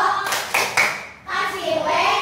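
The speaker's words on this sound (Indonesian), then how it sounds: "Kita kasih tepuk wow dulu untuk kelompok 2." Children clapping in a classroom for group 2, a few rhythmic group claps in quick bursts, close and loud, mixed with children's voices.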